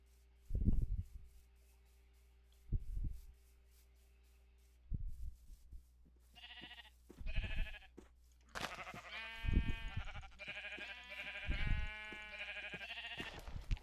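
Sheep bleat in a video game: several low thumps open, then a series of wavering bleats grows louder and overlaps toward the end, all fairly close with no talking.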